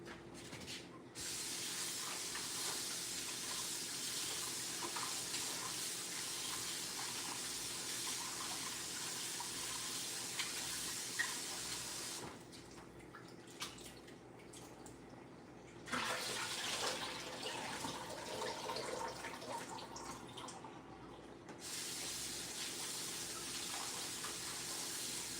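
Tap water runs continuously as food is rinsed in a kitchen sink, a steady, moderately loud hiss and splash lasting throughout that briefly drops and changes tone twice when the flow is interrupted or moved.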